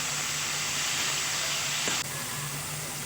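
A chopped large tomato frying in a teaspoon of oil in a pan, a loud steady hissing sizzle that drops slightly in level partway through, close and constant.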